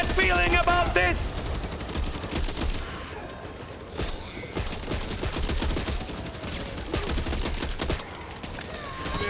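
Sustained automatic gunfire and bursts of shots from the co-op zombie shooter Back 4 Blood, loud and dense throughout, with brief pauses and voices calling out now and then.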